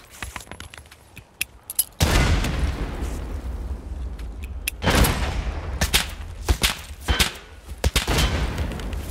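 Gunfire in the video game Escape From Tarkov: quick close shots in the first two seconds, then sustained loud booming bursts and cracks with heavy rumble, several sharp separate reports standing out near the end.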